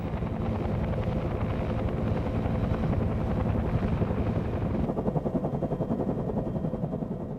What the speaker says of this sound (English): Because of the rotor noise, pilots tried to avoid alerting the enemy until the last possible moment.